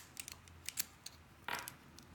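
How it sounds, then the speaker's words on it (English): Scissors give a few quiet, crisp snips, trimming cotton wick on a Kali RDA vape atomizer, close up in a still room. "So I'm gonna get my scissors."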